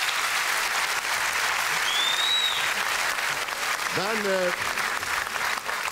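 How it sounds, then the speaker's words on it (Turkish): Studio audience at a Turkish televised dance competition applauds steadily for the jury, a sustained loud wash of clapping with a voice speaking briefly over it near the end. "Jüriye de bir alkış rica etsek."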